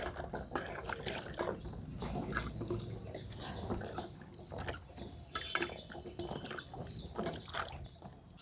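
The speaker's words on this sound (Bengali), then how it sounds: "এরপরে এটাকে আমি ভালো করে পরিষ্কার করে ধুয়ে নেব।" Peeled carrots being rinsed and washed by hand in water in a home kitchen, with steady splashing, sloshing and dripping sounds close by throughout, and no talk.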